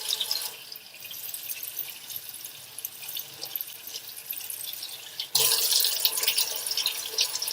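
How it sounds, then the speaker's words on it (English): Tap water runs steadily into a sink as soap is rinsed off hands, a soft continuous splash that grows louder and brighter partway through as the flow strikes differently. "you can rinse the soap off."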